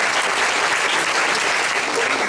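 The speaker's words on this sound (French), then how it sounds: "je vous demande de les applaudir." Dense, continuous applause from an audience at a speech contest fills the space, loud and even throughout with no pauses or voices on top.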